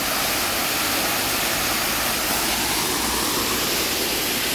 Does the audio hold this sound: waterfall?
yes